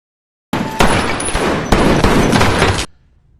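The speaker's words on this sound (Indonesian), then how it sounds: "Frank tiba-tiba muncul dari arah belakang dan tak berhenti melepaskan tembakan." Gunfire in a film action scene, a dense burst of rapid shots lasting over two seconds, loud and close, with sharp repeated cracks before cutting to near silence.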